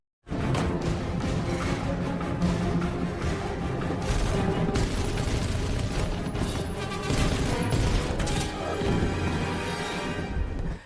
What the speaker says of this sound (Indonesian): Prank pun dihujani peluru oleh anak buah Jensen